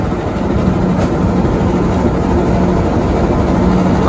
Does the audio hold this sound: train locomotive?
yes